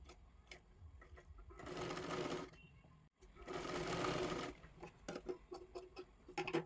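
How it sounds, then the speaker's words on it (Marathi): A sewing machine stitches a straight seam along the folded edge of a blouse neckline strip for a kathpadar saree blouse. Two close, loud bursts of rapid whirring are separated by a short pause, with light clicks between. "बरोबर इथे कडेला एक शिलाई मारून घ्यायची आहे पूर्ण पट्टीला"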